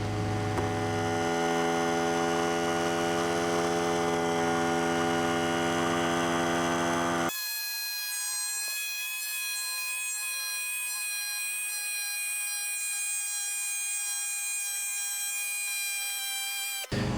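A Central Pneumatic 9527 air compressor runs steadily as it pumps up pressure, giving a continuous whining hum with strong tonal overtones. Partway through, the low rumble drops out and a thinner, higher whine carries on alone.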